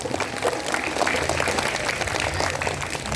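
Applause from an audience at a religious talk or gathering, a dense steady patter of many hands that stays loud and even throughout.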